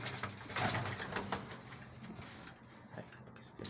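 Pigeons, Pakistani birds among them, on a rooftop loft: a steady murmur of soft cooing and fluttering with a few brief wing flaps, moderately close and continuous, no talking.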